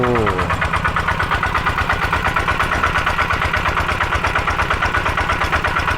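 A single-cylinder tractor engine runs steadily while driving a water pump, its rapid, even chugging pulses loud and close throughout with no talk over it.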